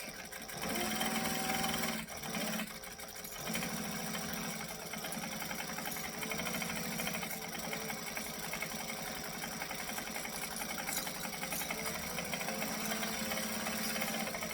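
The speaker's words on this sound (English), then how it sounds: "I'm just going to sew a 1/4 inch all the way around" A sewing machine runs steadily, stitching a quarter-inch seam around the edge of a fabric case at a 2.5 stitch length, with a brief pause early on before the continuous motor whir and needle chatter resume and carry on close by.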